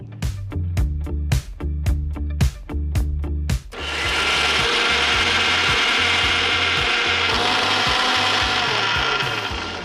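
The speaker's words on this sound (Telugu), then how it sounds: "దీన్ని ఇప్పుడు మనం బ్లెండ్ చేసుకోవాలి." A kitchen blender whirs steadily after a run of short rhythmic mechanical clicks, blending ingredients for cucumber avocado rolls, loud and close with no talking.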